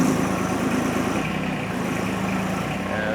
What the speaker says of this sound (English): This little tractor with the upgraded lift cylinders I got on it picks it up no problem.